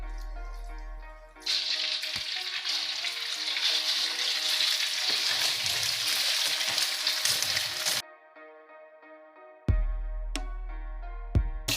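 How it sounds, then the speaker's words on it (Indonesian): Seasoned meat frying in hot oil, a loud, steady sizzle that starts abruptly and runs for several seconds, then cuts out and briefly returns, with no talking. "Kita goreng dulu dagingnya ya, semua yang tadi udah kita bumbuin ya."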